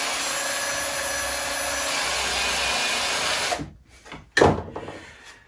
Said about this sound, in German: wenn ich den Akkuschrauber dazu nutze, dann ist Schrauben versenken ein Kinderspiel